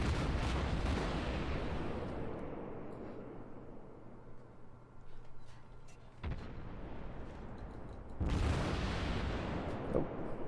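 Warship guns fire a salvo in the World of Warships naval game: a heavy boom trails off into a long rumbling decay, and two more sharp blasts follow later, moderately loud, with no speech.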